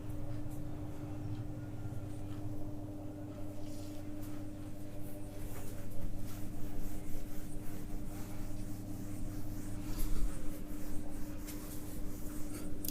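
Continuous scratching of a pen writing out maths notes on paper, steady and close, over a faint low background hum.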